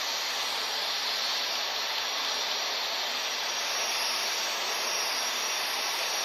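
Boeing 737 jet engines at takeoff power in Real Flight Simulator, a steady loud broadband roar with a hissing high end that holds constant throughout, no voices over it.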